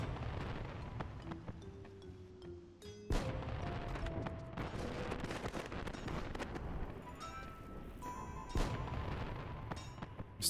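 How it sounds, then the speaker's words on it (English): Fireworks going off in the video game Final Fantasy 11: a steady stream of sharp pops and crackling bursts layered over ambient game music with sustained tones. "Still get all the noise from the fireworks"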